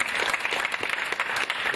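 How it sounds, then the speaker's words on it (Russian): Theatre audience ovation at the close of a Tatar play, dense rapid clapping from a large crowd, steady and fairly close, with no voices over it. "Спектакль заканчивается овациями."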